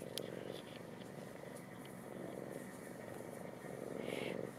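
A cat purrs steadily and close by, a continuous low rumbling purr running throughout without a break, faint overall with no talking.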